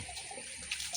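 Water gurgles and rushes through a pipe as trapped air is forced out, a steady close, continuous wash with a few brighter splashy bursts near the end.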